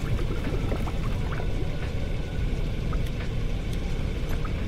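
Water pours steadily into a container in the survival game Forever Skies, a continuous even splashing rush that runs for the whole stretch with no talk over it.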